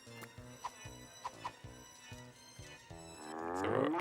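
In the Herc's Adventures video game, a cow is grabbed and thrown: a run of light thuds and knocks, then a rising, swelling animal-like call at the end, all fairly quiet.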